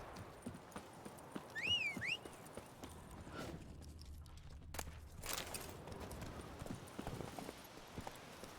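Hooves of the horse Roach in the video game The Witcher: Hearts of Stone, a quick run of light clip-clop steps with game birdsong and a low rumble mixed in, fairly faint.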